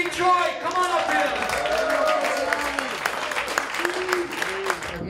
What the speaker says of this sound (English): I want to give a big round of applause for my really good friend